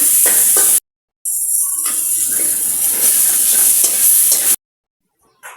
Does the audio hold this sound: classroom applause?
no